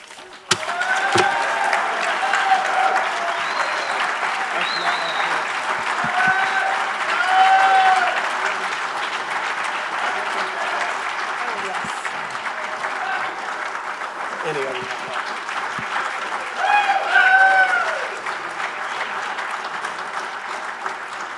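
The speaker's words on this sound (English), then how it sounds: "please join me for one more round of applause" A crowd at a university athletics Hall of Fame induction ceremony applauds steadily through a long, full round. Scattered whoops and cheers rise over the clapping, which swells twice.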